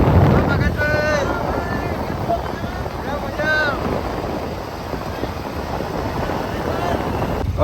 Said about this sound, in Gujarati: જો મિત્રો પગતભાઈ રિક્ષા લઈને અહીંયા આવ્યા.